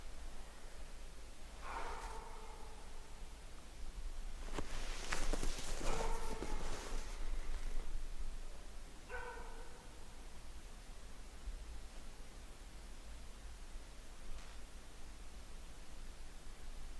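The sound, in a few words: dog barking in a forest at night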